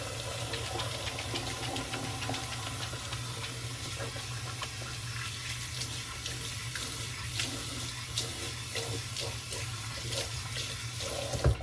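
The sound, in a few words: water running from tap, splashing while washing hands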